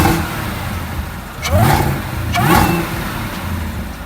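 A car engine idles with a low rumble, then gives two short revs that rise and drop quickly, close and moderately loud.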